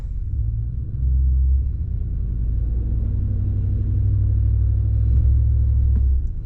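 A 2015 Ram pickup truck in four-wheel drive backing up on snow, its engine producing a deep, steady low rumble that swells slightly as it moves, close and continuous throughout.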